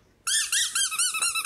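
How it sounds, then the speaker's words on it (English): A squeaky rubber ducky toy squeezed over and over, giving a quick run of loud, close, high-pitched squeaks that follow one another with hardly a pause. "I'm gonna squeak my ducky toy all day."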